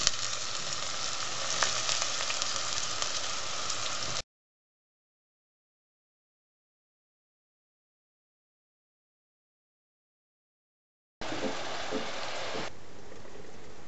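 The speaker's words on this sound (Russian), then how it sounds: "наливаем оливкового масла немножко побольше обычного, разогреваем, высыпаем лук в кастрюлю." Chopped onion sizzling in a generous amount of heated olive oil in a pot, a dense crackling fry heard in two stretches separated by a long silent gap.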